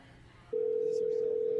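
A steady telephone dial tone rings out while a cell phone is being called, a single continuous pure tone starting abruptly after a faint murmur of room noise and holding loud and even to the end.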